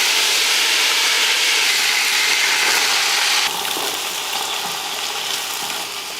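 Loud, steady sizzling of mustard seeds frying in hot sesame oil, a dense crackling hiss that drops slightly in level about halfway through.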